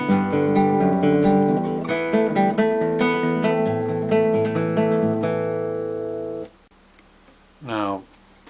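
A clean guitar plays a quick run of plucked notes with legato hammered and pulled slurs, ringing together for about six seconds before cutting off; a brief voice follows.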